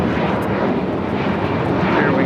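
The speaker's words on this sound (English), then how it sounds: "Air Tahiti Nui, the Dreamliner up next for a south side arrival" An Air Tahiti Nui Boeing 787 Dreamliner arriving from Papeete on runway 25 left at LAX, a loud, close, steady broadband jet roar filling a short stretch, with some speech faintly present.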